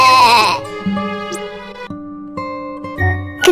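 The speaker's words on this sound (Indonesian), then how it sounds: "Satu persatu domba itu mengembik." Sheep bleating as a sound effect in an Islamic story, several wavering bleats in quick succession, loud and close, with no talking.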